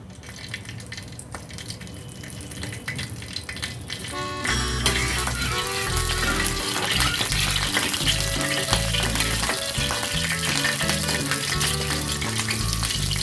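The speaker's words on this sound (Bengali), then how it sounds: "এতে আমি কালো জিরে আর কাঁচা লঙ্কা এর মধ্যে অ্যাড করে দিলাম" Nigella seeds and green chilies drop into hot oil. A quieter crackle swells after a few seconds into loud, continuous sizzling and spitting that carries on at close range.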